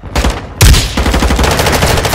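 Rapid automatic gunfire in Call of Duty: Modern Warfare II, a loud, close burst opening with a heavy shot and continuing as a dense, rattling stream of rounds without talk.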